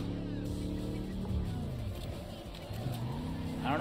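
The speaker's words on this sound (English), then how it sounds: "The engine is loud on this one." A car engine in the racing game Cyberpunk 2077 drones loud and continuous, its pitch rising and falling as it revs and shifts, with a brief voice underneath.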